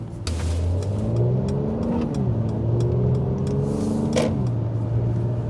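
A 2018 Mercedes-AMG GLC43 engine revving as it accelerates, a steady throaty exhaust roar with pitch rising and dropping through gear changes, close and loud.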